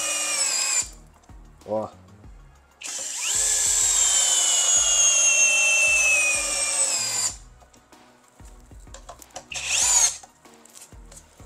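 FortG brushless drill driver drilling a hole and driving a screw, a high whine running in several bursts with one long sustained run at full load, close and loud, with someone speaking between runs.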